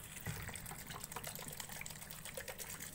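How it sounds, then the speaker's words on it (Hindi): Water poured into a pot of mutton while making yakhni pulao, a steady gushing, splashing pour heard close and alone for the whole stretch. "अब मैं डालूंगी इसके अंदर पानी,"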